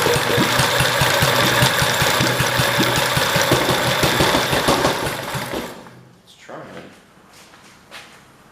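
A Kohler K181 small engine runs with a loud, rough, rapid chugging for about six seconds, then cuts out and falls quiet, leaving only faint handling noises afterward.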